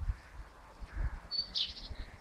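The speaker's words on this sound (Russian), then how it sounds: "Дождь, они, оказывается, в дождь птиц тоже поют." Small birds chirp and tweet in a light rain, with a short, brighter burst of song standing out from soft, steady background noise.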